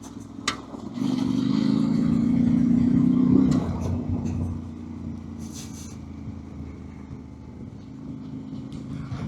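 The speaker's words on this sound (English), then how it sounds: "This 800 with 90 horsepower is a big powerful bike on the gravel." An 800 adventure motorcycle with 90 horsepower rides over gravel, its engine droning steadily, swelling louder for a few seconds before easing back to a lower, continuous rumble, close by and without speech.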